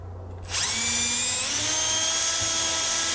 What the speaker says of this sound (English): Now I'm going to take my drill bit, set it back about 1 inch so I don't split the wood